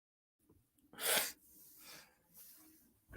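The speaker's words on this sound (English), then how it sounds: "Hold on, I'm blowing my nose." A sharp, forceful blast of air through the nose, followed by two softer snorting blows, close up with no talking.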